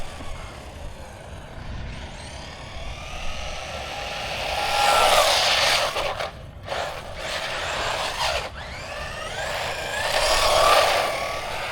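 A DEERC 1611 Whirlwind 1/16-scale brushless RC truck on 2S batteries drives and pulls wheelies, its whining motor rising and falling in pitch over several passes, near and fairly loud, with no talking.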